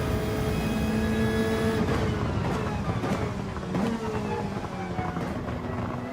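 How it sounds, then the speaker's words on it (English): A Hyundai Elantra TCR race car in Gran Turismo 7 gives off a steady engine and turbo whine, then a whistling note when the throttle lifts, loud and continuous with no talk over it. "I like it when you let off the throttle and it does that whistly sound"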